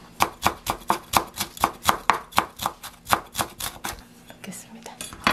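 Green onion tops being minced with a knife on a cutting board: a steady run of about twenty quick, close chops in even rhythm, slowing and growing lighter near the end, with no talking.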